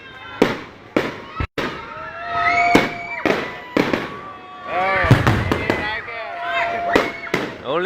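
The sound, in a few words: fireworks display along Finelli Drive in Agat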